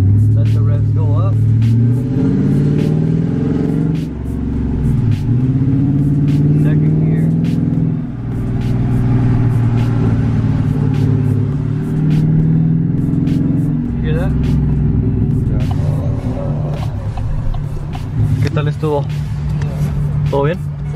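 A car engine revs up repeatedly as it accelerates, a steady low rumble rising and falling, with voices talking over it throughout.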